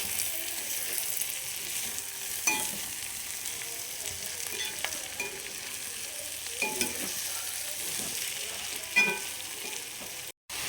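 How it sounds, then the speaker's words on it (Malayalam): Chicken cooked without added water in a pan, stirred: a steady, close sizzle runs throughout with occasional scraping clinks of the spoon against the pan. "നന്നായി ഒന്ന് ഇളക്കി കൊടുക്കാം"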